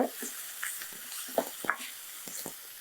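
Red and green bell peppers sautéing in a pan, with a faint sizzle broken by soft scraping stirs and light knocks of a utensil, quiet and close, no talk.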